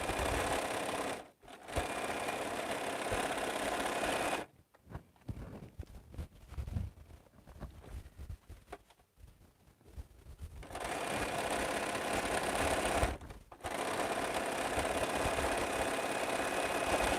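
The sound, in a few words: sewing machine stitching quilt borders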